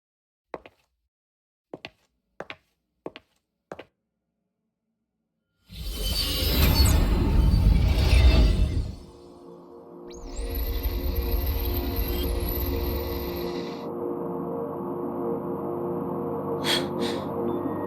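Static white noise plays from a cassette in the Wuthering Waves video game, entering after several sharp clicks as a loud hissy rush, then settling into a droning hum with a high whine, no voices.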